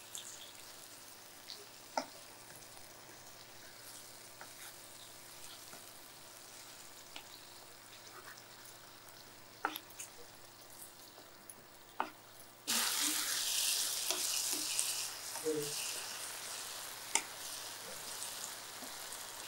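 Tomatoes soften as they sauté in a pan for cumin kuzhambu, a low crackling fry that swells abruptly into a louder, bright sizzle near the end, with occasional soft clicks of a stirring spoon.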